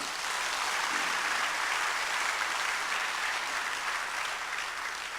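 A large church congregation applauds in a thick, continuous roar of clapping that holds steady and loud from start to finish, with no speech on top.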